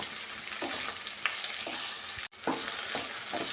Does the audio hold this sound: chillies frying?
yes